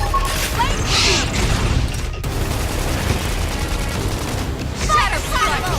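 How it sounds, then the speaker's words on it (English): Flame grenade attack in the role-playing game Xenoblade Chronicles X, a dense crackling burst of blasts and mechanical clatter, with short voices calling out over the din. "Flame grenade!"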